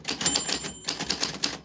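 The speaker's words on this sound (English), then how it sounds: "We are doing typewriter typing for fun" Rapid typewriter keystrokes clatter in irregular bursts, close and clear, with a brief bright ring of the carriage bell partway through.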